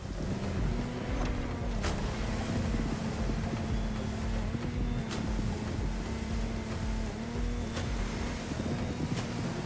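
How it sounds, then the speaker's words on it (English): A motorboat engine in a video game, The Crew Motorfest, drones steadily with wind and water rush offshore, a constant hum holding throughout with brief swooshes at intervals. "This time we're going offshore with way bigger boats"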